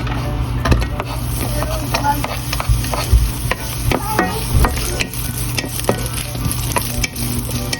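Onion frying in oil for chicken adobo, a steady dense sizzle with scraping stirring strokes running throughout, close and fairly loud, with occasional utensil knocks and no talk.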